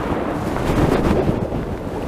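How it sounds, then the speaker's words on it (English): Steady wind roaring and buffeting across an open fishing match bank in cold conditions, a continuous low rumbling gust noise with no voices. "This wind's going to be making it difficult to get out the distance now."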